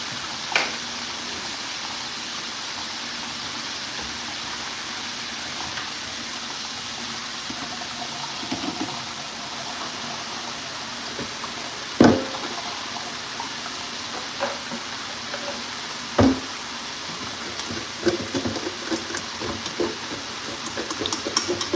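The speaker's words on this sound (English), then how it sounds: "Put these under some cold water so those will stop cooking" Cold tap water runs steadily over cooked noodles in a kitchen strainer, a continuous close hiss and splash broken by a couple of sharp knocks from the strainer.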